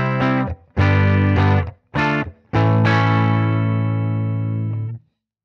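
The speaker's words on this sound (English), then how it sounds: "You hear how it's starting to break up" An electric guitar through an Orange Crush 20 amp's clean channel plays a few loud chords, the last one left ringing, with a warm, slightly gritty overdriven edge creeping into the tone.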